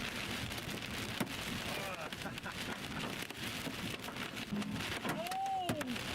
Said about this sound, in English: we proceeded to get the crap beat out of us with hail